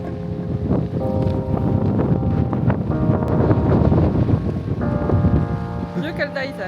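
Strong coastal wind at Essaouira buffets the microphone in a steady, loud roar that hardly lets up, while voices talk over it.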